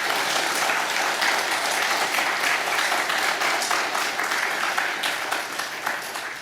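A church congregation at a Wednesday service applauds two missionaries, steady dense clapping filling the room throughout and tapering slightly at the end.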